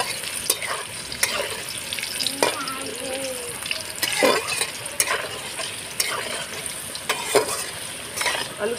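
Food frying in a pan, with a steady sizzle broken by repeated sharp spatula clicks and scrapes, close by; faint watery sounds in the background.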